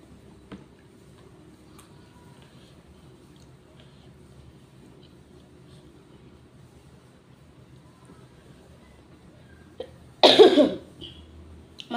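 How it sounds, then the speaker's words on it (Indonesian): A single loud, close cough breaks a long, near-silent stretch near the end, followed by a brief softer rasp. "Maaf ya batuk."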